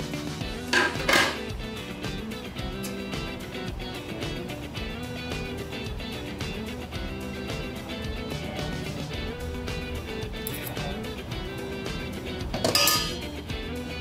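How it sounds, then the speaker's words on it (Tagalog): A lid settles onto a pot of Filipino ginataan bilo-bilo cooking with banana, giving two short metallic clanks over a dense, steady background of music. "Tatakpan natin ulit para maluto yung saging"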